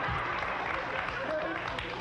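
Audience clapping at a televised talent show with amateur singers, a steady broadband wash heard close, with voices mixed in underneath.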